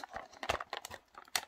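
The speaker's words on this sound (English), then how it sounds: "time to open it with a flathead screwdriver because I don't have a knife on me" Crinkling plastic packaging around an M.2 SSD is crumpled and torn open with a flathead screwdriver, giving close, irregular crackles and brief rips.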